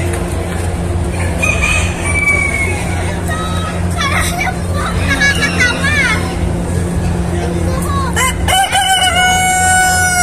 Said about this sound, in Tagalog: Ang lalaking manok na ito.